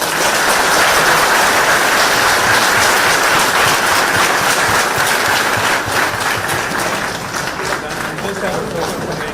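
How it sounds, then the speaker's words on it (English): Students at a University of Texas campus event give a visiting guest a round of applause, a loud, dense and continuous clapping that runs for around nine seconds, easing slightly toward the end. "can we give him a round of applause?"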